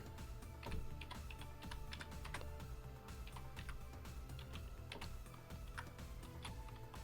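Continuous rapid typing of program code on a computer keyboard, with dense irregular key clicks throughout at a steady, fairly quiet level and no talking.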